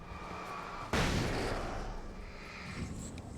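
A flashbang goes off in Alan Wake as one sharp, loud burst whose hiss and rumble fade over a couple of seconds, over a quiet background with no talk.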